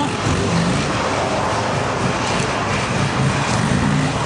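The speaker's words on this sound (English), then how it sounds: "Forcing the bike into the corner." A motorcycle ridden hard and forced aggressively into a corner in motocross style, heard as a loud, steady, broadband engine and road roar that holds without a break for the whole stretch, with no talking.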